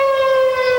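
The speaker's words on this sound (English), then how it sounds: "The eerie sound of a siren signaled high tide and served as a warning to move cars to higher areas" A steady, loud high-tide warning siren wail holds one sustained pitch with rich harmonics, sounding continuously and alone without any talk.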